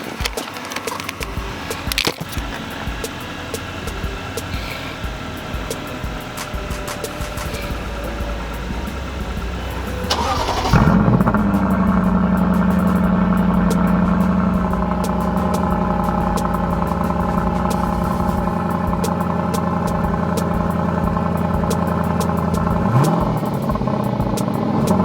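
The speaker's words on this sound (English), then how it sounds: "I'm gonna let you hear what it sounds like when you start it up." A car with about 1,700 miles on it starts up midway, its engine catching with a loud burst and then settling into a steady, deep idle that hums on close by to the end.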